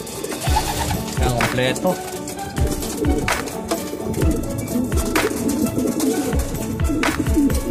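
Homing pigeons cooing steadily back at their loft, the soft repeated coos close and prominent throughout, with someone speaking briefly over them.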